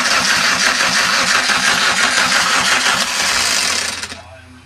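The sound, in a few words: starter motor cranking a Magna car engine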